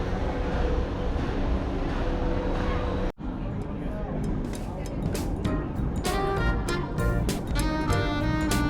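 Tram in Rio de Janeiro, Brazil, rumbling along with steady rolling and mechanical noise, a brief cut partway through, then rattling and clicking as people chat over it.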